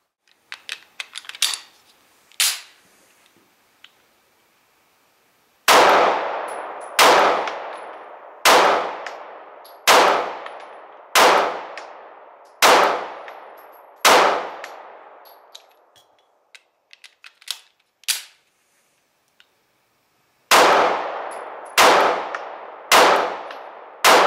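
A Springfield Armory XDS 9mm pistol fires near the listener: a few scattered shots, then a fast string of about eight sharp reports, a short pause and a final rapid burst, with steel targets clanging after the hits.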